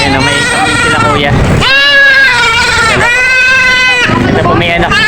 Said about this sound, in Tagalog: Ang gaganda ng mga kambing na dumating po dito.